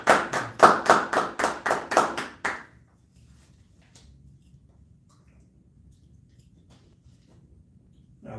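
About eight sharp hand claps in quick succession at a Sabbath service, loud and close, then they stop and near-silence follows.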